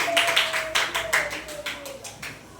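A small classroom audience gives a short burst of clapping for a student group during a lesson on the meaning of the Pancasila principles, with a few distinct claps and a voice faintly underneath.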